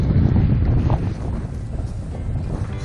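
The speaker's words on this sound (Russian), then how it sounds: "Ветер сильный," Strong gusty wind buffets the microphone with loud, low roaring gusts that ease slightly after the first second, with open water noise underneath, on a river delta in winter.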